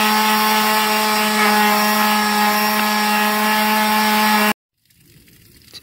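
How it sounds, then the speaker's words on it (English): A power sander runs steadily on a metal jon boat during a DIY paint job, giving a loud, close, even whine for about four and a half seconds before cutting off abruptly into near silence. "I hit it with the sander, and then I hand sanded the areas the sander couldn't get into"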